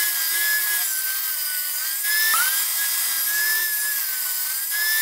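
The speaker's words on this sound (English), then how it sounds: "Let's journey to the table saw" A table saw runs with a steady high whine while cutting wooden legs, the pitch dipping briefly as the blade bites, loud and close.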